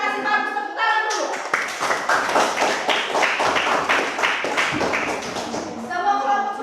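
Students in an Indonesian classroom clap together after a group presentation, a dense burst of close hand claps filling the middle of the clip, with voices speaking briefly before and after.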